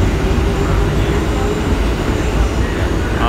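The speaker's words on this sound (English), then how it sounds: "Let me show you the efficiency of the train." A train passes in Tokyo with a loud, steady low rumble of wheels on rails, close by and continuous, with a faint squeal near the end.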